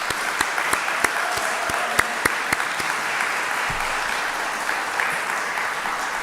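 A church congregation claps steadily for committee members, a dense, even round of applause from many hands in a large room with a few sharper claps standing out near the start, and no one talking.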